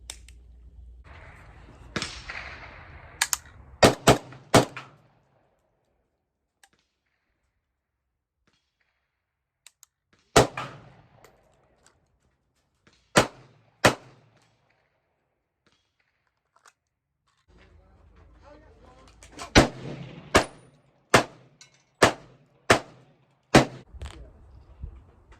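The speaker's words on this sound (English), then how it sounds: "shooting this handgun, it's shot like a 1911" A Remington R1 Enhanced handgun fires sharp, loud shots, alone and in quick strings of three to six separated by quiet gaps, with low outdoor rumble between some volleys.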